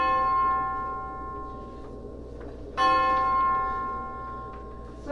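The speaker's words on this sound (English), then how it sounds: "13 bells." A bell tolls the witching hour in a video game, with two resonant strikes heard here, each followed by a long shimmering ring that slowly fades.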